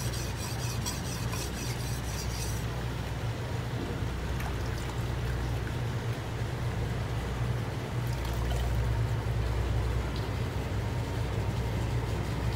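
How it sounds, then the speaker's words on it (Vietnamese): A bone-chopping knife is ground against a wet hollow clay brick, giving a continuous loud rasping, watery scrape that runs steadily with no pauses or talk. "Gạch ống này mài cũng êm."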